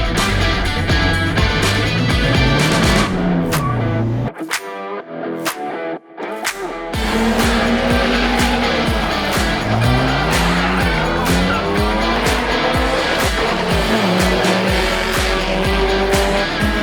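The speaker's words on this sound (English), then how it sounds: "Lightning McQueen stayed over night here, and we're starting it for the first time" A Lightning McQueen car being started and run for the first time, with loud, continuous revving and squealing sounds that briefly drop out near the middle before resuming at full level.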